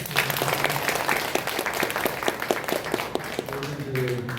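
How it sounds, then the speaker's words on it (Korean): A Korean Nazarene church congregation claps together, crisp rapid hand claps ringing out in a continuous burst, with a voice speaking over the applause. "우리 박사님 박수 한번 할까요?"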